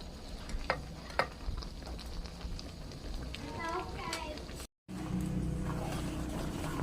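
Lauki halwa stirred in a pan as the milk cooks down, with a low bubbling hiss and occasional spoon scrapes, a brief dropout midway and a voice speaking over it.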